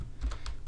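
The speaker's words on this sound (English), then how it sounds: "Hit N on your keyboard, bring up the properties." A few soft keystrokes on a computer keyboard while working in Blender, spaced clicks that sound close but quiet, with no voice.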